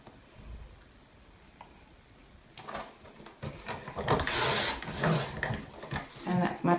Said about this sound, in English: all I'm doing is lining up that that score line and just trimming off on that score line